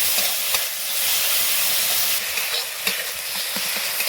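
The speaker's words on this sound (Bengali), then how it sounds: "টমেটো বাটা টমেটোটা ভালো করে কষিয়ে নেবো" Tomato paste fries and gets stirred in a pan while cooking duck egg kasha, giving a steady close sizzle with scraping stir strokes throughout and no talking.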